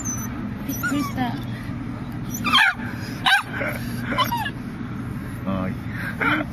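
A small dog yips and barks a few times in quick bursts while people chatter and coo around it.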